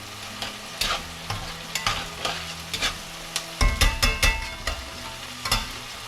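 Onions fry in a pan while a utensil stirs them, with a steady sizzle under a run of scraping strokes that turn louder and busier near the end. No one speaks.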